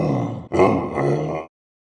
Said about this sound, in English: You heard a gorilla?